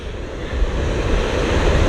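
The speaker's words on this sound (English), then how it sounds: "you can see the ocean is angry" Rough ocean surf at St Lucia Estuary under a swell of about 2.5 metres; a loud, steady roaring wash with wind buffeting the microphone, no voices.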